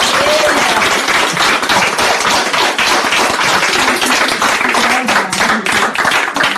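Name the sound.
audience applause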